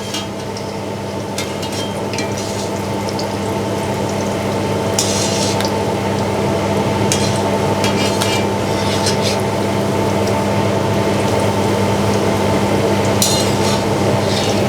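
A Thai omelette fries in oil in a stainless steel wok, giving a steady, loud sizzle with an electrical hum beneath and occasional brighter crackling spurts, continuous throughout.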